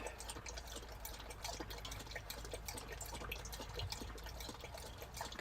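Warm water runs steadily from a tap, a soft continuous hiss and splash with no talking.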